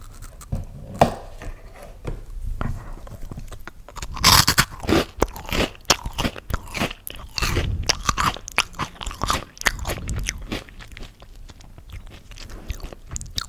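Crisp, loud crunching and chewing of a chocolate-filled wheat snack eaten close up, bursts of biting at irregular intervals over several seconds with softer chewing between, no talking.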